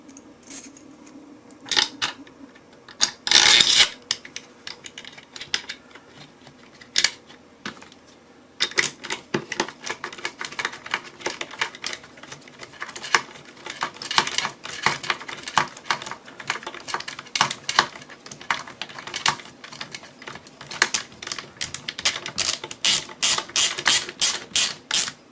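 A wrench ratchets in quick clicking bursts while a nut with its washer is tightened onto a washing machine motor, with close-up clicks coming in irregular runs and growing faster and denser toward the end.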